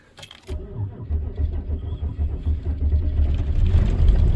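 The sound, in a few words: truck engine cranking and starting on a cold morning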